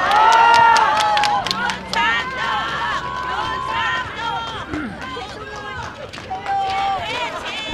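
A large rally crowd of several thousand cheers and claps to welcome a party leader to the stage, a dense wash of shouting voices and applause that stays loud and continuous throughout.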